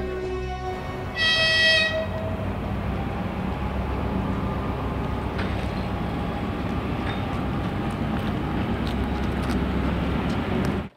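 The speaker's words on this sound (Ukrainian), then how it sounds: "Пані Ользі доводиться щодня користуватися електричкою, бо ж сама зі Здолбунова, а працює у Рівному" An electric commuter train rolls past near a station in Rivne, with a short horn toot near the start followed by steady rumbling wheel noise that continues until it cuts off.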